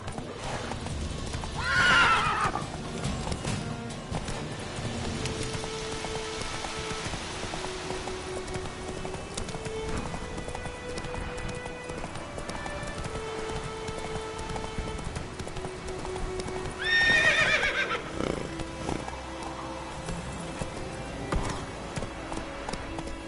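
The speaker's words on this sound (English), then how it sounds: "Whoa there, Roach" Roach the horse in The Witcher 3 video game neighs loudly twice, each whinny rising sharply, over steady galloping hoofbeats and a game music bed, with no talk.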